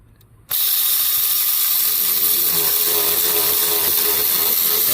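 A ratchet tightens a hose clamp during a radiator replacement on a 2006 Ford F-150 with the 5.4 engine. After a half-second pause comes loud, close, rapid continuous clicking that lasts to the end.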